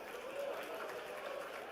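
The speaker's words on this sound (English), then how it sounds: "Guys, give them a round of applause, please." Faint, distant applause at a school commerce convocation, a soft, continuous patter of clapping mixed with murmuring crowd noise and a hint of voices in a large hall.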